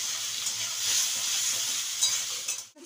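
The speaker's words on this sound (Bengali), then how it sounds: "এরকম সাদা সাদাই ভাজবো।" Small cleaned local shrimp fry steadily in hot oil, a continuous bright sizzle with faint crackles that holds throughout, then drops away abruptly just before the end.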